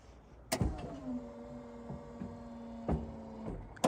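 A Meyers snowplow motor on a truck runs weakly with a low, strained whine, starting and stopping with clunks between runs, fairly quiet and close.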